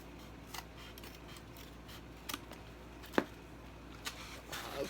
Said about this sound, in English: I'm just going to cut it off because I didn't do an even cut